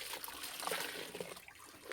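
Water trickling and splashing as clothes are rinsed by hand outdoors in a river, with irregular close drips and small slaps of wet fabric over a steady flowing background.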